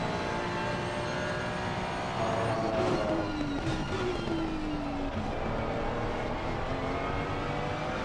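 A GT3 race car engine in Assetto Corsa Competizione roars steadily throughout, with a rising whine that climbs and shifts gear, loud and close without any talking.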